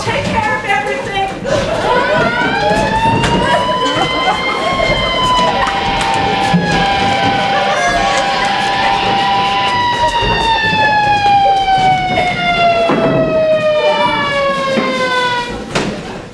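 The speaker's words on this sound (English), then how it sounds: "we heard the fire engine pulling up on the lawn of the church with the siren blaring" A fire engine siren wails loudly and steadily, rising and falling in long sweeping tones as the engine pulls up on a church lawn during a Christmas pageant, with voices faintly audible beneath it.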